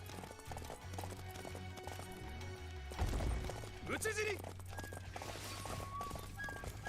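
Hooves of a horse in the Samurai Warriors 5 video game clatter in a quick galloping rhythm, followed by a short neigh, under steady game music and people talking.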